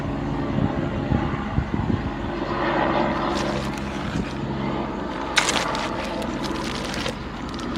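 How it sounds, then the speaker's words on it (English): A helicopter circling overhead, its steady rotor drone filling the whole stretch at moderate loudness with a brief sharper burst partway through, no talking. "Are you kidding me with this freaking helicopter? It's just like doing laps around me."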